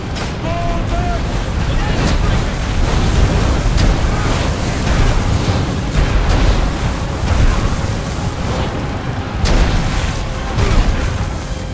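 Catapult fire explodes in a Ryse: Son of Rome battle scene as a dense, loud roar of booms and rumbling blasts continuing throughout, with shouted voices over the din.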